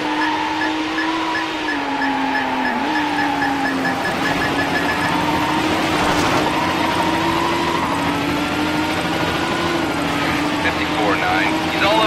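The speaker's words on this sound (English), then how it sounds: "County all units, the helicopter is airborne." A steady police helicopter drone with rotor thrum fills a video game scene in Need For Speed Hot Pursuit 2, with engine whine and traffic noise mixed in, and police radio voices talking over it.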